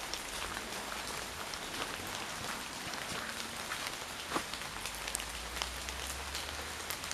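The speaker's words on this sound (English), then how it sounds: "As you can hear, it's raining." Steady rain pattering on surfaces, with scattered sharper drips and a low rumble underneath; no talking.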